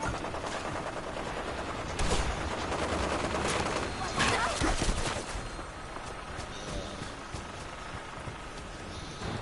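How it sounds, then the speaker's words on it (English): Rapid sustained fire from a laser Gatling gun in Fallout 4, a dense continuous rattle of bursts running nearly the whole time, loud and close with heavier surges in the middle and a slight easing toward the end. "I kinda like using the laser Gatling"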